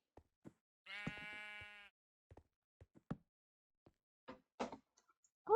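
A video-game sheep gives one clear, sustained bleat lasting about a second, surrounded by quiet, scattered clicks and knocks.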